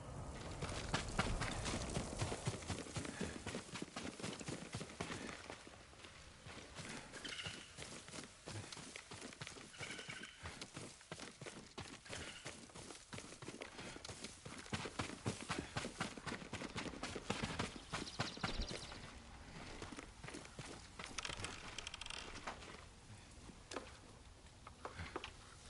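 Horse hooves clip-clop in Ghost of Tsushima, a steady galloping rhythm running throughout under a dense game soundscape, fairly loud and close, with no talking.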